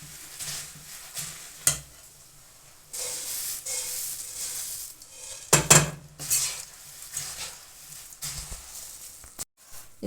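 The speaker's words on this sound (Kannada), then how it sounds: "ಇವಾಗ ಹುರಿದಿಟ್ಟಿರೋ ಮಂಡಕ್ಕಿನ ಸ್ವಲ್ಪನೇ ಹಾಕ್ಕೊಂಬಿಟ್ಟು ಕಲಿಸೋಣ" Roasted puffed rice is tossed with gram flour paste in a kadai. Irregular metallic clatter and scraping of the ladle against the pan come with soft rustling and hissing bursts, loud and close, with quiet gaps between strokes.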